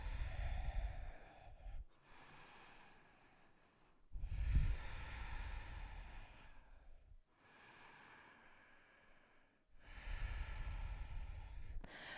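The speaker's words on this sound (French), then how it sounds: "Respirez bien dans la posture. Encore 3-4 respirations." Slow, deep breathing held in a hatha yoga posture, long airy inhales and exhales alternating with short quiet gaps, close and soft.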